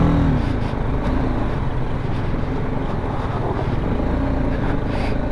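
Motorcycle riding over a rocky, stony path with shallow water near Minimarg and Domail in northern Pakistan, its engine a steady, loud, close drone with continuous rough rumble and no talk.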